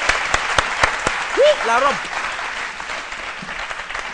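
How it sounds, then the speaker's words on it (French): A studio audience on a midday television show applauds in a steady, moderately loud wash of claps while someone speaks briefly over it. "On applaudit toutes ces..."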